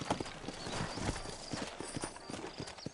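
Several horses' hooves clip-clop in a busy, overlapping rhythm on a hard surface, close and steady, with faint rustling movement around them.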